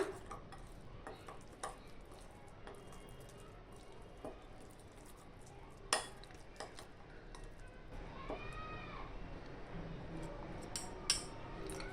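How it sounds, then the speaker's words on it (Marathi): A spoon mixes ground masala in a cooking pan with soft scraping and occasional sharp metallic taps against the pan. The sound is close and quiet, with a voice briefly audible. "हा मसाला मिक्स करून घेऊया"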